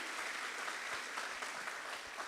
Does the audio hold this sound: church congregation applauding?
yes